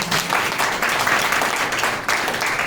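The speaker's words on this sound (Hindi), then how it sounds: "कितने लोग इस बात पर ताली बजाकर खुदा का धन्यवाद?" A church congregation claps together in thanks to God, a loud, sustained burst of applause from many hands that swells in waves and briefly dips before resuming.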